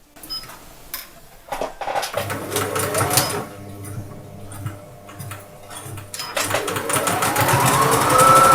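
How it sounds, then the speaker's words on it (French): A sewing machine runs a straight stitch along a jilbab seam, its rapid mechanical clatter coming in bursts with short pauses, close and fairly loud, building steadily toward the end. "il ne reste plus qu'à assembler le jilbab en commençant par le poignet et en terminant par le bas, au point droit à 1 cm du bord"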